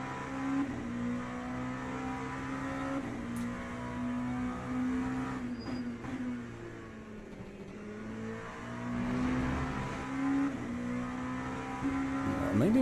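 An LMP2 prototype race car in the Le Mans Ultimate sim carries a steady, droning engine note that rises and falls with throttle and shifts, with a brief tire squeal near the end.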